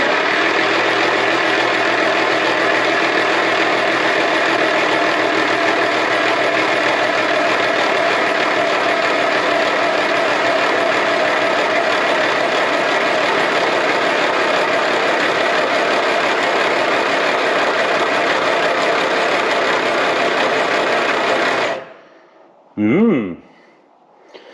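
A Morris Minor engine runs steadily and loudly for about twenty seconds with a constant drone, then cuts out, followed by a brief cranking burst and a short silence.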